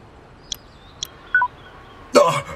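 A few short electronic keypad beeps sound at spaced intervals, followed by a louder burst of talk.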